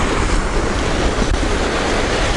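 Strong wind off the sea at Anapa buffets the microphone in a loud, steady, close roar of broadband rumble, with no voices.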